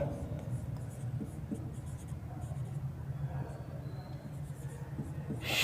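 A pen scratches notes onto paper in steady, faint strokes close by, running beneath a teacher who keeps speaking throughout.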